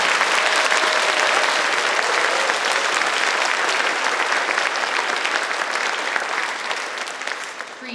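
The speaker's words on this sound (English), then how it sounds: "Let's give them one more big round of applause." Loud, continuous clapping from an elementary school fine arts awards assembly audience, holding strong throughout and easing slightly toward the end.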